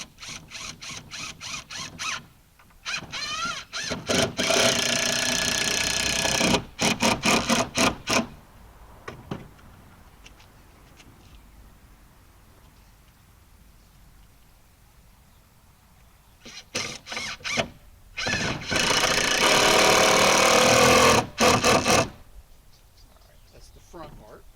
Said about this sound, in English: So just taking some deck screws, screwing those down to the bottom side.